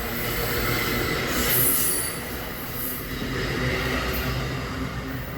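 Via Rail or Exo passenger train wheels squealing on track in Montreal, a steady high metallic screech over the rumble of passing railcars, close and sustained throughout with no talking.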